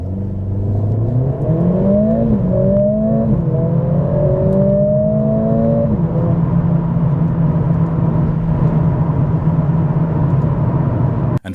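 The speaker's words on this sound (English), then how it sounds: "Now here's how it sounds in race mode, also with the exhaust switched off." Close, loud Mercedes-AMG CLA45 S engine accelerating hard in race mode with the exhaust valve closed, quick rising pulls and abrupt shifts, then holding a steady high drone; no voices.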